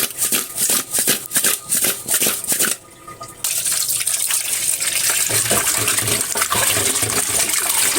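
Water splashes and gushes as several fish are rubbed with salt and rinsed by hand, with choppy bursts of sloshing and handling, a brief pause, then a steadier run of water close by and no voices.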